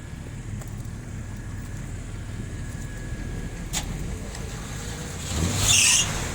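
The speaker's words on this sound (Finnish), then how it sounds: "hienosti Cadillacki lähtee käyntiin" A Cadillac's engine idles steadily with a low, even rumble, rising slightly near the end as it starts and runs, heard at moderate distance with no talk over it.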